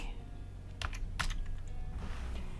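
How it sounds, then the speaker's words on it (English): A few quiet keystrokes on a computer keyboard tap out short clicks in a small cluster over a low background hum, close and faint, with no talking. "in the filter items, type in powered by"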